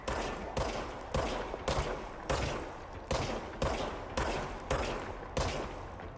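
Repeated bursts of gunfire from a service weapon in the video game Control, about ten sharp, loud shots in a fairly regular rhythm, each followed by a short decaying tail, with no talk.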